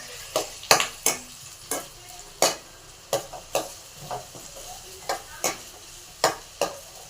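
Sliced onion frying in a pan after curry leaves and green chili, with a spoon scraping and stirring in sharp, irregular strokes roughly every half second over a soft sizzle; no talking.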